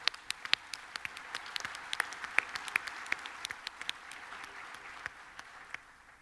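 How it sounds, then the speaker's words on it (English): Scattered applause from a Grand Lodge convention audience, a sparse patter of individual claps that gradually thins out, at moderate distance. "Let's give Horst a round of applause, shall we?"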